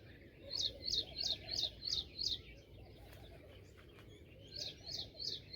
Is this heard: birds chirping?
yes